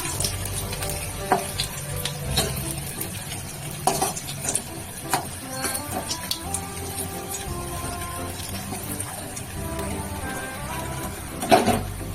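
Continuous sizzle of chicken pakoras deep frying in oil until brown, punctuated by scattered clinks and scrapes of a utensil against the pan.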